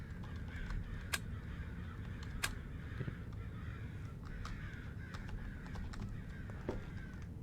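Crows cawing in a horror video game, several scattered harsh caws at moderate volume over a low rumbling ambient bed, no talking.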